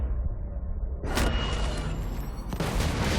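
Grenade explosions in the Borderlands 2 video game, two broadband booms about a second and a half apart over a steady rumbling game soundtrack, with no voices.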